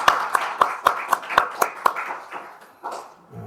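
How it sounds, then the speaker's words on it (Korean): A church congregation at a Sunday afternoon service claps in encouragement: about eight distinct, evenly spaced claps ring out in a brisk rhythm, then the sound thins out into a few scattered taps and a faint voice. "우리 모두 다 크게 격려하는 박수를 부탁드립니다."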